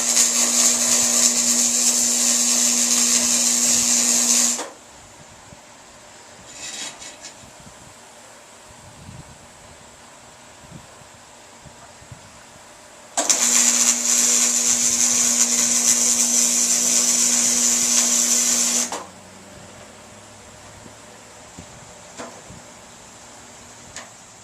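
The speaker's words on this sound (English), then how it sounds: "Now we're going to weld it together." Arc welding an anvil hold-down together in a blacksmith shop, heard as two loud steady buzzing bursts of several seconds each, separated by a quieter stretch with faint handling noises.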